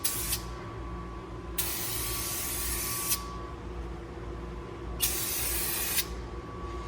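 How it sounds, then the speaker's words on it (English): Three long hissing bursts from an aerosol rattle can of spray paint, each lasting about one to two seconds with short pauses between, loud and close over a steady low background hum. "That is probably the coolest rattle can I've ever sprayed."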